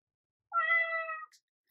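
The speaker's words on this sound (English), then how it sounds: "there we have Percy meowing on." A single electronic-sounding meow, clean and tonal, rising then holding briefly before stopping, with a faint click just after in otherwise silence.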